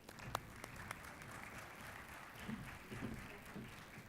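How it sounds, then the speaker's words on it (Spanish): Audience applause for a woman, Andrea Rodríguez, being welcomed onto a stage, a fairly quiet, steady patter of clapping from a distant room with a few sharper taps. "Andrea Rodríguez, le damos un aplauso y la saludamos en el escenario."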